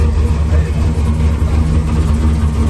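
A Chevy car engine idles and rumbles with a steady low drone at a park-and-chill car meet, close and loud, while people talk nearby.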